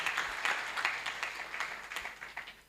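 An audience applauds an honourable guest at a nutrition champion awards ceremony, a steady patter of many hands clapping at moderate level, fading slightly toward the end.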